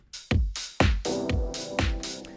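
A programmed drum beat with punchy low kicks, a delicate sampled snare and an offbeat open hi-hat hissing between hits, steady and upfront with no voice present.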